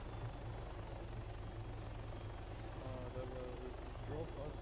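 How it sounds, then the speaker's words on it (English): Faint Hummingbird helicopter rotor chop in the video game Arma 3 thrums steadily in the background, a low continuous whir under quiet distant sounds. "I can't hear you with the helicopter"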